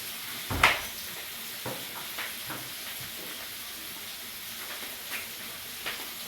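Tomatoes sautéing in a pan make a faint, soft sizzle, broken by a sharp utensil clink near the start and a few lighter taps later, with no one speaking.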